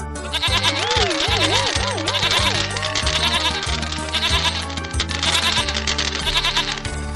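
A goat bleats in a Bengali animated folk tale, several wavering, quavering bleats rising and falling over lively background music, with loud and close cries in the first half and music carrying on after.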